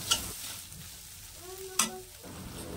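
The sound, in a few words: stirring and roasting spice masala with turmeric in a pan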